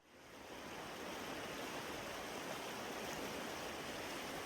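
Mountain springs and a river in Sherwet village, at the foot of Qandil, make a steady, soft rushing of flowing water, constant and even with no other sounds.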